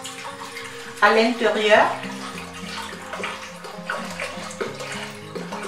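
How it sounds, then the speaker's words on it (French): Three litres of water pour into a cooking pot in a gushing splash that settles into a steady running trickle, with someone speaking French over it. "Vous versez les 3 litres d'eau à l'intérieur."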